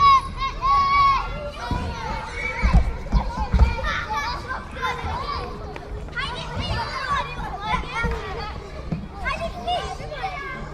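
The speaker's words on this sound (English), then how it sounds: "That sounds like kids playing." Children play together in a lively babble of shouting, chatter and running, with many young voices overlapping continuously at a fairly close, busy level.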